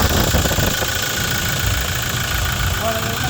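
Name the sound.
Toyota Innova 2.8 engine idling after EGR valve cleaning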